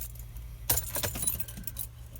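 Keys rattle and jangle in the ignition of a camper van, a short close metallic burst of clinks lasting about a second against a quiet low background hum.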